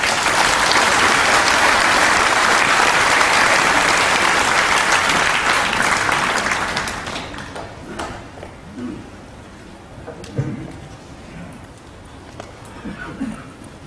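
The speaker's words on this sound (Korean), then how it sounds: "나오실 때 뜨거운 박수로 환영하시겠습니다" A church congregation claps warmly to welcome the pastor to the pulpit, loud and dense for several seconds before thinning out into scattered claps and quiet room noise.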